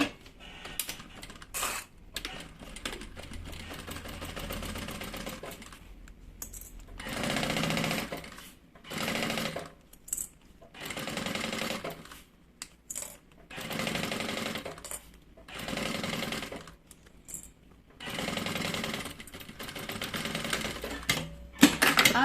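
A sewing machine stitches a zipper onto a trunk-style bag in repeated loud bursts of rapid mechanical clatter, separated by brief pauses as the fabric is repositioned.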